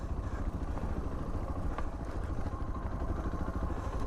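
Suzuki DR650 dual-sport motorcycle ridden off-trail through desert bushes, a steady rumbling engine drone with low thudding pulses and wind buffeting, loud and close throughout.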